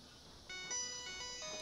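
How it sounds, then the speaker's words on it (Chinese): A mobile phone's incoming-call ringtone plays a bright, repeating electronic melody of stacked tones. It starts about halfway in, fairly clear and near in a quiet room. "这电话又过来了"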